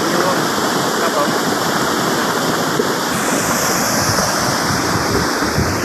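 Khiri Wong waterfall in Lan Saka, Nakhon Si Thammarat, pours in a loud, steady broadband rush heard up close, with gusts of wind noise buffeting the microphone and no break in the flow.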